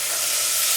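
Ginger garlic paste with mint and coriander fries in a hot pan, a steady, close, loud hiss of sizzling oil in a very short burst.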